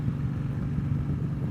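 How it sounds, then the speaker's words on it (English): A Honda VTX1300 V-twin motorcycle engine idles with a low, uneven, loping thump. The rumble is steady and fairly soft, with no voices over it. "It's actually got sort of like a Harley sound to it."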